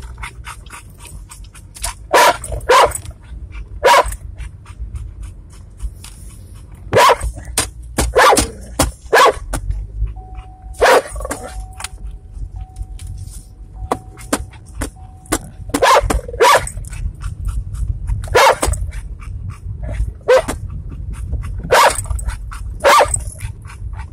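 A black Labrador barks repeatedly in sharp, loud bursts, some clustered in quick pairs, with brief growls and yips between them over a low rumbling background.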